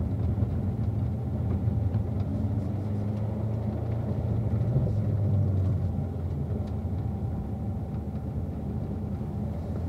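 A car driving figure eights gives a steady, close low engine rumble with road noise that holds an even level throughout, with no talking.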